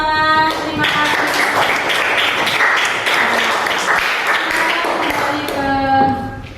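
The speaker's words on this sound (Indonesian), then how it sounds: "Kita beri aplaus, tepuk tangan." Classroom applause for a student group that has just presented its worksheet results, a dense burst of clapping from students lasting several seconds, with tonal voices and chatter mixed in underneath.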